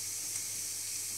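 Steady, bright sizzling hiss of tuna chunks frying in a hot pan with olive oil and minced garlic, close and continuous with no talking.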